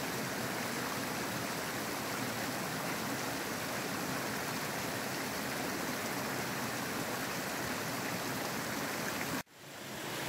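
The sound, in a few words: mountain stream flowing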